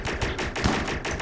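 Shotgun-like gunfire from Dune-style weapons in a RimWorld firefight, a rapid run of sharp, loud bursts repeating roughly every fifth of a second for just over a second, with no talk over it.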